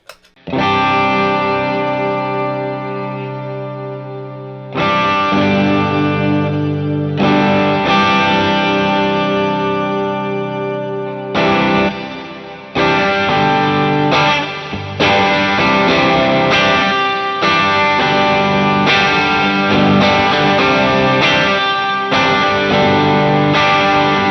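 Distorted electric guitar through a JHS Octave Reverb pedal, driven by a Marshall Blues Breaker overdrive, with a thick octave-doubled, reverb-washed tone, playing sustained chords and then choppier riffs, loud and up close.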